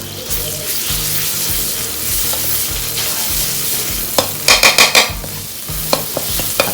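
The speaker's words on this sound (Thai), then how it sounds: "น้ำมันใส่ลงไปครับผัดพริก" Chili being stir-fried in hot oil for a beef and pickled bamboo shoot curry: a steady, close sizzle with a utensil scraping and clattering in the pan, rising to a burst of sharper knocks partway through.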